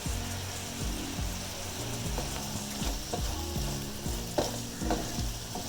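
Squid sizzling and being stir-fried with garlic in a pan over high heat for a Malabar-style fry, a steady loud sizzle with repeated scraping spatula strokes throughout, no voices.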